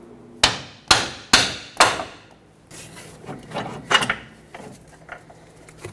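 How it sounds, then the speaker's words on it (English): A hammer strikes the bolt of a front lower control arm on a 2006–2010 Hyundai Sonata with four loud, evenly spaced metallic blows. Quieter knocks and clatter from the suspension work follow. "Tap the bolt through."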